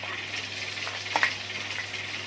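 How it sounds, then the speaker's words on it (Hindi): Boiled, pressed potatoes with salt hitting a hot pan for liti chokha, a steady soft sizzle of frying with a brief brighter crackle partway through, no talk. "अब हम इसमें आलू ऐड करेंगे।"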